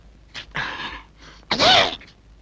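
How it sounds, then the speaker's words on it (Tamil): A person sneezes in a Tamil comedy film scene: a short nasal burst, then a louder, sharper explosive sneeze about a second later, close and alone with no talk. "யார் தும்முனது?"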